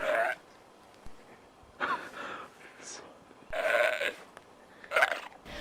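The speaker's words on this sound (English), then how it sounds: "While we never get a clear shot of this animal, it sounds like a goat or a pig." Odd animal calls like a goat or pig come from the woods in a few rough, bleating bursts with quiet gaps between them, fairly clear against a still background.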